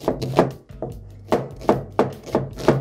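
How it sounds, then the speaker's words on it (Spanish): A knife chops an onion into small cubes on a cutting board, giving sharp, evenly spaced knocks about every half second, close and clear with no talking. "Picamos la cebolla."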